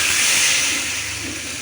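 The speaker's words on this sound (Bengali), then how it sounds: "একটু কারি পাতাটা একটু ভাজা ভাজা করে এর মধ্যে ঢেলে দেবো" Hot oil with fried curry leaves hits semolina idli batter in a short, loud hissing sizzle that bursts at once and then tapers slightly.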